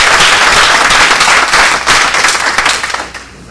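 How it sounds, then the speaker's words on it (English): An indoor audience at a talk bursts into dense, loud applause that holds steady before tapering off toward the end, with no talking. "would you join me in giving you a round of applause?"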